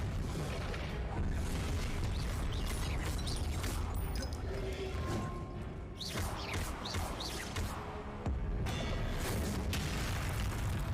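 Spell explosions in Hogwarts Legacy on PS5: heavy booms and bursts with crashing debris and magical whooshes over a dense, loud game soundscape, with no talk.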